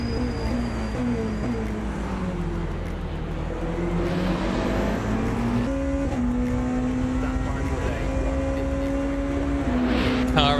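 Race cars circuit the Bahrain track in the sim racing game Le Mans Ultimate, a loud steady engine drone whose pitch climbs and shifts through gear changes, with no talk.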